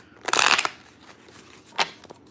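A deck of cards riffles in a quick burst, followed by a softer second flutter moments later, close up and with no one talking.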